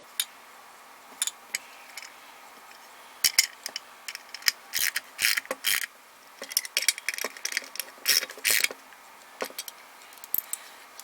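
Catch can mounting screws are snugged down into nylock nuts on a bracket, giving bursts of close, small metallic ticks and clicks with short quiet gaps between them and no voices.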